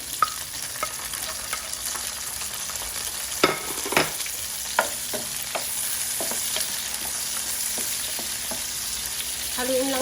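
Tomatoes frying with garlic and onion in oil in a pan, a constant close sizzle broken by irregular clacks and scrapes of stirring, a few louder knocks in the middle.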